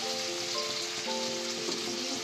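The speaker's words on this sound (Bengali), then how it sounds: "বিনসটা এক পাশে ভাজা করে দিয়েছি" Green beans fry in a pan beside cooking chicken, producing a continuous, moderately loud sizzle and crackle with a faint steady tonal hum in the background.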